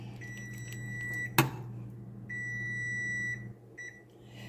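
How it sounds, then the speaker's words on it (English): An electronic kitchen timer beeps in two long, steady tonal bursts, loud and close, with a sharp knock between them and a shorter beep near the end, over a low continuous kitchen hum while chilli beans cook. "that was the timer"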